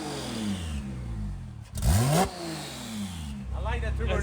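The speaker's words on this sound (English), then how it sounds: "That turbo noise. Sounds good." A Porsche 911 Turbo engine idling and revving, running without intercooler pipes, with a brief rising rev and a turbo whoosh, close and fairly quiet.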